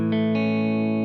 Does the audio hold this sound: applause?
no